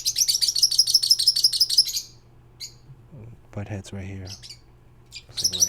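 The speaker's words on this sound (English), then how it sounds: "you guys can hear the birds in the background." Birds chirp and tweet in a quick repeated series for about two seconds, then a few more scattered calls follow, with someone speaking in the middle.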